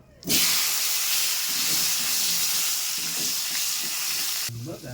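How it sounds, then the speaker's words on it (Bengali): Potatoes dropped into hot oil left over from frying eggs, erupting into a loud, steady, close hissing sizzle that holds for several seconds before cutting off. "এবার ওই তেলেই দিয়ে দেবো আলু।"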